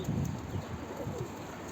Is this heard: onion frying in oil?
no